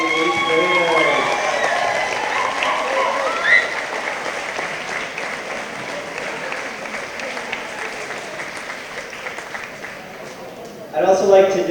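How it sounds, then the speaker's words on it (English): A school crowd gives a long, loud round of applause for 8th graders at a moving-on ceremony, steady clapping that carries on for several seconds, with voices at the start and a fresh burst of sound at the end. "Let's give one more big round of applause to the Healey 8th graders."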